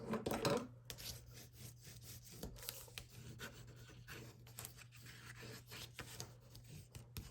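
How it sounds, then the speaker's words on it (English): Burnishing folded paper for a Halloween stacked folio craft, a faint close-up scraping and rubbing with short repeated strokes and small taps, mostly quiet. "bring that up and burnish it"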